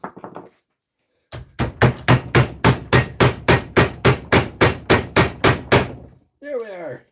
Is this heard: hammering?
yes